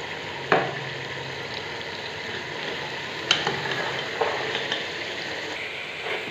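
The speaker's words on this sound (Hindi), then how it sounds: "अब इन उबले हुए चनों को मैं मसाले में डाल रही हूँ।" Boiled chickpeas added to a spice masala in a pan sizzle and fry steadily, with a few sharp clinks and scrapes of a spoon stirring them; no talking.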